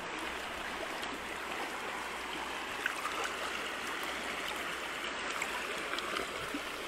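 A river stream in Idaho runs over its rocky riverbed with a steady, soft rushing and babbling wash that keeps going without a break.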